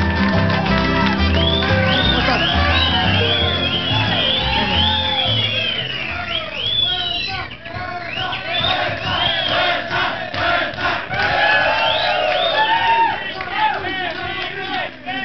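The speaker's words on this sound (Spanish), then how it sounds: "Un aplauso para Carla, que venga adelante." A loud TV studio crowd cheers and whoops continuously, with many overlapping voices shouting and clapping, filling the whole stretch without pause.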